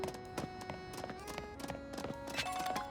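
Light hoof taps from a small goat trotting around in Pokemon Legends: Z-A, an irregular series of clops heard over steady tonal game music at a moderate, fairly quiet level.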